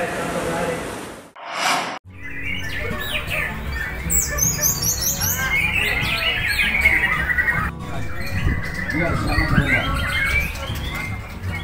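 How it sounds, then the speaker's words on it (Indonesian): Songbirds chirp and squawk in busy, overlapping calls after a brief opening voice, sharp high tweets scattered over a noisy background, fairly loud and close. "Burung kicau kini makin digemari kaum Adam di tanah air."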